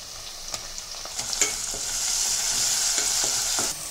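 Ginger garlic paste and onions fry in oil for chicken biryani, a loud steady sizzle that swells over a few seconds with occasional stirring clicks near the pan, and no one speaks.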